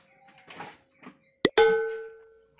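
Glass clinks in a kitchen, a sharp close strike followed by a bright ringing tone that decays slowly over about a second, after some faint shuffling handling noises.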